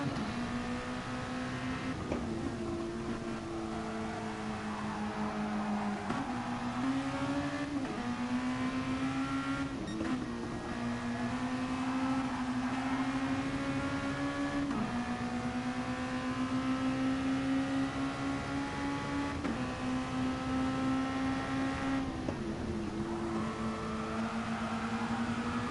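A racing car engine in a racing video game drones and climbs steadily in pitch, then drops sharply at each of about six gear shifts across the run, with no voices.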